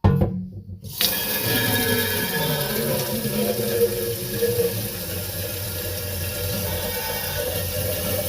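Water running from a tap into a sink or basin while potting hydrangea cuttings into porous terracotta pots, a steady close stream that goes on throughout after a short pause at the start.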